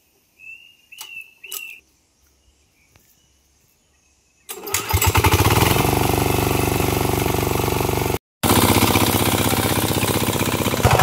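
A tractor engine cranks and catches on a farm field, then settles into a loud, steady running rumble that continues nearly to the end with only a brief break; a few faint sounds come before the start.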